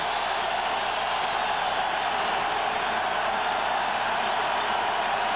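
A football stadium crowd at a 1996 Broncos at Packers game, a steady, loud, continuous roar with no distinct peaks, heard alone without talk.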